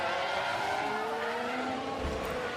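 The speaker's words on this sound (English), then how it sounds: "Stroll crash at turn 16. Stroll has crashed." A race car in the F1 Manager 24 game skids through a crash at turn 16 of the Azerbaijan Grand Prix, a sustained tire squeal with a falling engine whine, loud and continuous.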